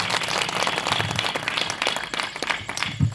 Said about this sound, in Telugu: రాజు పాస్టర్ గారికి మరొకసారి చప్పట్లు కొట్టి మనమందరం కూడా గౌరవిద్దాం